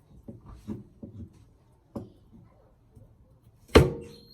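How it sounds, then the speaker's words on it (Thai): Knife chopping carrot on a cutting board: a series of quiet, irregular thuds, followed by one sharper, louder knock near the end. "แล้วก็มาเตรียมหั่นแครอทนะคะ"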